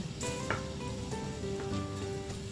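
Chopped garlic sautés in hot oil in a pan, a steady close sizzle with faint crackles and a few soft utensil clicks running throughout.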